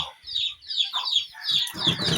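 A chicken clucks repeatedly in short, close bursts, with rustling and a bit of background noise near the end.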